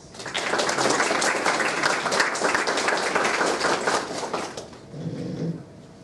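Audience applause on a college campus, welcoming a guest speaker: a sustained burst of dense clapping from a crowd that swells, then tapers off, with a brief murmur near the end.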